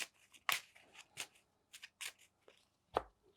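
A deck of Yu-Gi-Oh trading cards being shuffled by hand at a tabletop game, a series of quick crisp riffling bursts in uneven rhythm, close up and alone.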